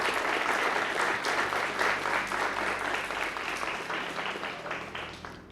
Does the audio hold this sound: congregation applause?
yes